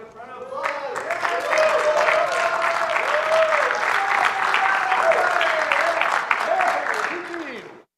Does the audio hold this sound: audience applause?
yes